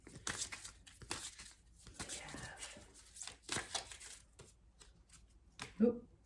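A deck of oracle cards is shuffled by hand and cards are drawn, with flapping riffles and papery slides in quick bursts. The sound is close and quiet, with soft speech nearby.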